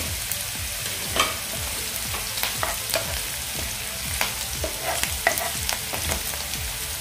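Curry leaves frying in hot oil for bitter gourd bhaji, a steady crackling sizzle with sharp pops and occasional spoon stirs, close and continuous with no voices.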